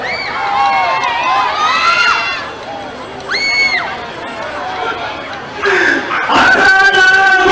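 A crowd at a street dance competition shouts and cheers in rising waves, with high voices, chatter and yells mixed together, loudest toward the end.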